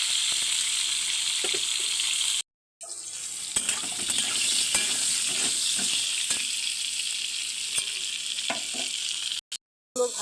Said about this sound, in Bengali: পটলটা ভালো করে লাল লাল করে ভেজে নেব।